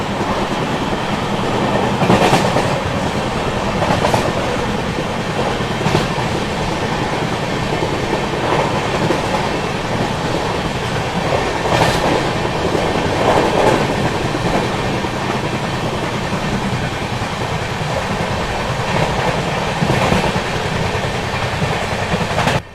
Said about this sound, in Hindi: आसनसोल जंक्शन रेलवे स्टेशन फिलहाल अपनी ट्रेन पहुंच रही है।